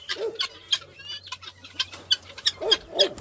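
A free-ranging rooster clucks repeatedly in short, choppy bursts, close by, with a few sharper squawks mixed in.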